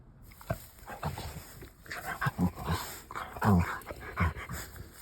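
A dog named Lola whimpers and whines in a spring garden, close and intermittent in short bursts, with soft vocal yelps rising between quieter stretches.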